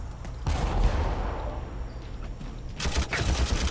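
Weapons firing at close range in the Armageddon strategy video game, rapid crackling bursts of gunfire in two loud clusters, one early and one near the end, over a continuous battle din.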